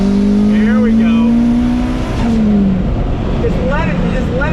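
A 2001 Acura Integra GS-R with StopTech brakes pulls hard in second gear, its engine note climbing steadily up close and loud, with a voice talking over it.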